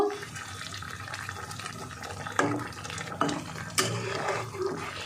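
A spoon stirs a wet mixture of boiled potato and egg in a pan, with soft sloshing and a few sharp scrapes and clinks against the metal, steady and close.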